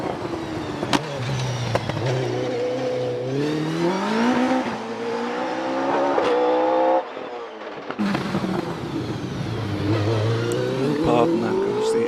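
An OMS 28 2.8-litre hillclimb race car at Prescott accelerates hard past at around 90 mph, engine note climbing through rising gear shifts, briefly cutting out on a change before roaring back up, loud and close.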